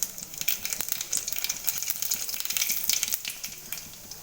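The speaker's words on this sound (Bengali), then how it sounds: "এবার আমি এর মধ্যে কালো জিরে ফোড়ন দিয়ে দেব।" Nigella seeds (kalo jeere) hit hot oil for tempering, giving a soft, crackly sizzle with scattered pops and spits, fairly quiet and with no voices.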